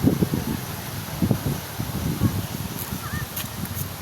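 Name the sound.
strong wind blowing into microphone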